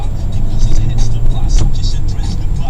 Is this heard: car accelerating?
yes